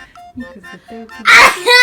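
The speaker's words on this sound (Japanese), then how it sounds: "すごいくしゃみでっかいね。" A loud sneeze bursts out near the end, set off with a twisted paper tickle during a timed sneezing contest, after a few moments of quiet voices chatting.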